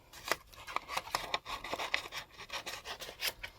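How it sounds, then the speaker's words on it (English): Scissors trimming a piece of paper, a quick series of crisp snips and rustling close by, about a dozen cuts in an uneven rhythm. "I'm going to trim a piece of this to make this whole bit smaller first"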